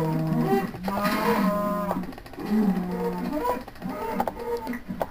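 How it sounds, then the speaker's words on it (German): Cows in Minecraft moo several times in quick, overlapping succession, fairly close and clear, with a steady low background. "Ach, noch mehr Kühe."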